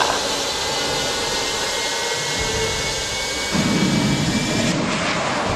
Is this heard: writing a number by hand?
no